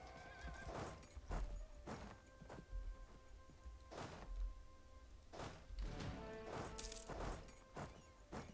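Horse in the strategy game Europa Universalis IV whinnies alongside scattered hoof clops and thuds, all faint and fairly distant, with no speech.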